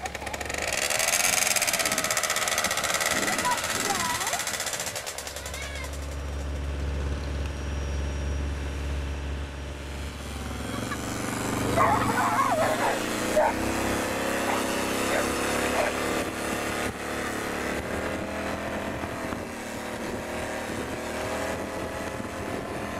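A go-kart engine revs and drones as the kart pulls slowly out of a gate and drives off, its pitch rising and falling at a steady, moderate distance throughout.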